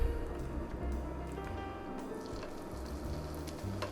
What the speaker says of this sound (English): See, we have a little sizzle happening.